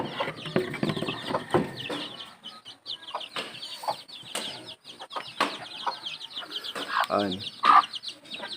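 Native chickens cluck in a busy farmyard, with scattered calls and a brief flutter of wings among other bird sounds.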